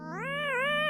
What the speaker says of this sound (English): I can meow at you.